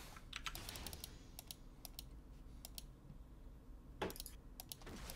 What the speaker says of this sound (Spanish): si escucháis clics es el de Felipe